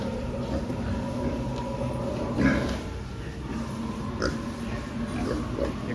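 Pigs grunt intermittently around a trough-style feeder in a pen, soft low snorts and oinks scattered over steady background noise with a slightly louder burst midway.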